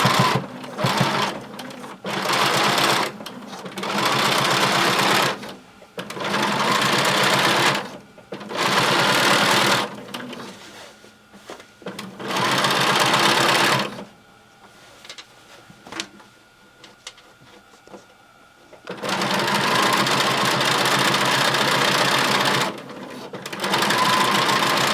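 A home sewing machine on a regular 2.5 stitch runs a circle skirt seam in loud, steady bursts of rapid whirring, stopping and starting repeatedly with short pauses in between.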